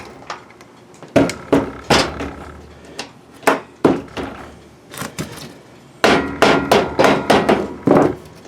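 Sharp hammer blows striking wood, irregular bursts of several hits with short pauses between, loud and close.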